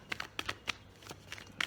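Soft papery riffling of tarot cards being shuffled, a series of quick light flicks close by with short pauses between them.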